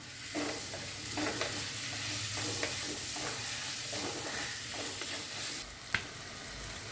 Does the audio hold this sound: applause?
no